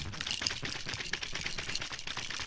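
A cheap, light plastic keyboard weighing about 100 grams rattles continuously as it is shaken, a faint, busy clatter of loose keys and parts without pause.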